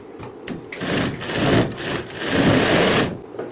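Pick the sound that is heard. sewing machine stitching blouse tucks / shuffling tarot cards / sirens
sewing machine stitching blouse tucks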